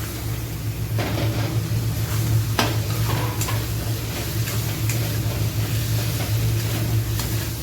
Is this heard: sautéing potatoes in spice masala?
yes